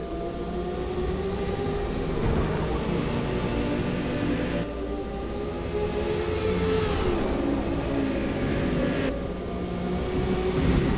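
A Lamborghini race car accelerating in a multiclass endurance racing sim at Le Mans, a steady loud engine drone with rising and falling revs that holds throughout without a break.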